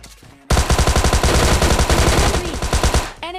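Rapid automatic gunfire in the video game PUBG, a loud, close, sustained burst of evenly spaced shots lasting about two and a half seconds after a brief quiet start.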